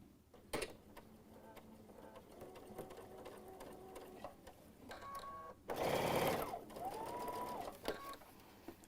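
Sewing machine stitching a tote bag, its motor whirring steadily close up in bursts, with a louder, faster run near the end and small clicks between passages.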